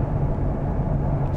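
Genesis G70 3.3T 4WD twin-turbo engine rumbling low and steady from inside the cabin during a paddle-shift downshift in eighth gear around 1,400 rpm, a brief continuous drone.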